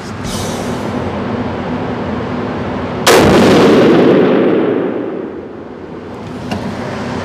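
A rifle fires Hornady ammunition outdoors: one loud, sharp gunshot with a long rolling echo that fades over several seconds, then a faint click near the end.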